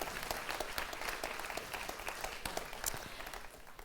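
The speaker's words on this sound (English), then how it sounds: "I'd like everybody to give them a round of applause because now they're in action." A conference audience gives a round of applause at an opening session, steady dense clapping from a moderately distant crowd that holds throughout and eases slightly at the end.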